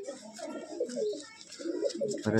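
Andhra pigeons in a loft give overlapping low, burbling coos close by, with a short sharp knock at the end.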